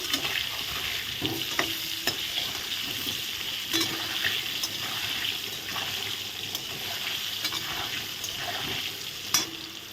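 Potatoes fry in oil with salt and turmeric in a pan, a steady close sizzle running throughout, with occasional scrapes and stirring clicks.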